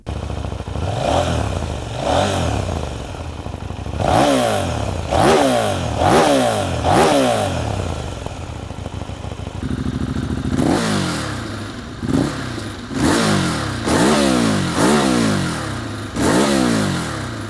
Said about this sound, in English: here's a pair of exhaust clips back to back, and let's see which one you like better.